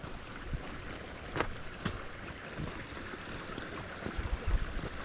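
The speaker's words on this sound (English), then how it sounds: "there's loads of water running along there" Water running along beside a road, a steady broadband rush of flowing water with a few faint knocks and bumps on top, moderately near and continuous throughout.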